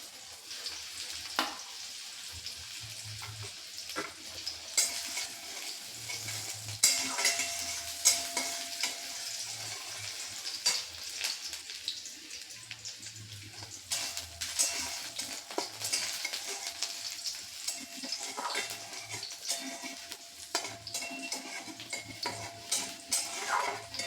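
Chopped onion frying in hot oil in a pan while being stirred for a moringa-leaf mung dal curry, a steady close sizzle broken by repeated scraping and clinking of a utensil against the pot, with no talk.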